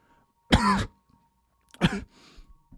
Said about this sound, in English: coughs a few times